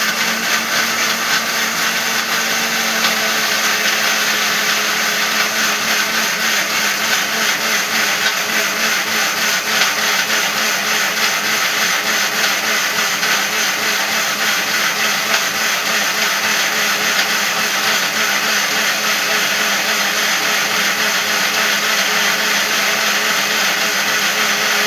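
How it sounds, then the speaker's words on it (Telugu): A kitchen mixer grinder (mixie) runs continuously at a steady high-pitched whir, loud and close, with no pauses and no talking over it. "ఇప్పుడు మిక్సీ పట్టుకుందాం."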